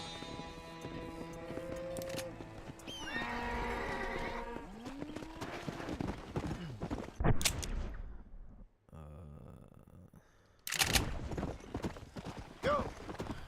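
Hooves galloping in the video game Red Dead Redemption, a steady rhythmic clip-clop under game music and voices, with a horse whinny and a few louder bursts partway through.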